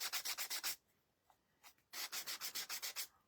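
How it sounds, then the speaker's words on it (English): Edges of a wooden craft piece are sanded by hand with quick back-and-forth scratchy strokes, close and clear. A rhythmic run of about six rubs, then a pause with a couple of faint touches, then a second run of about eight strokes. "I'm going to go around my edges, sand my edges off"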